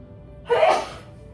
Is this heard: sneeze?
yes